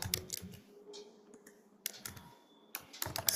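Keys on a computer keyboard are typed in short, irregular clusters of close, crisp clicks separated by brief pauses.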